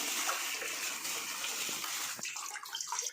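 Sardines being washed under running water in a home kitchen, a steady close splashing rush of tap water that runs continuously, with a few sharper splashes and clatters near the end.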